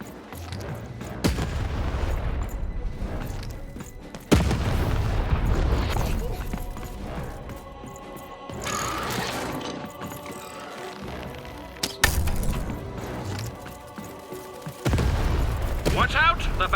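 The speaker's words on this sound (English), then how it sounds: "Shoot the button to fire the cannon." Heavy cannon blasts boom every few seconds in the video game Lost in Random, loud and close, with mechanical clanking and game sound effects filling the gaps between shots.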